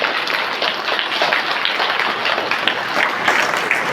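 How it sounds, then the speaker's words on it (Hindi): Sustained audience applause at a summer camp event for PM Shri school students in Balrampur, Chhattisgarh, a dense, steady wash of many hands clapping at close range throughout. "एक बार जोरदार तालियों से एक दूसरे का अभिनंदन करके रखें।"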